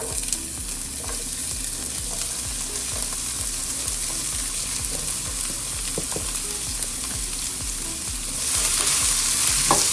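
Onions for sausage masala frying in hot oil in a pan, a loud continuous sizzle with stirring scrapes throughout that grows brighter and louder near the end.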